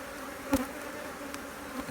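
Honeybees hum steadily around an opened beehive frame during an apiary inspection, a soft continuous drone with one brief louder close pass of a bee.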